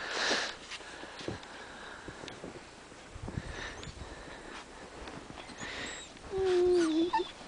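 A puppy sniffs and snuffles softly in short bursts, then lets out a thin, high whimper near the end.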